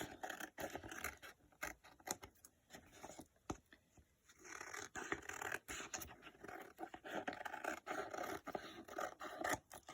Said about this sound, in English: And then I'm just going to cut this out.